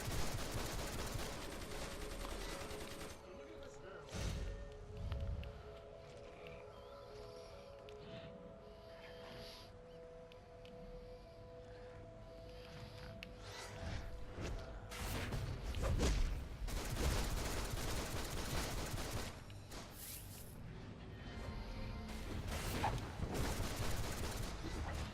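Red Hood's guns in the superhero game DC Universe Online firing in several directions, a dense, loud stream of rapid shots and bursts running almost continuously with busy game effects underneath.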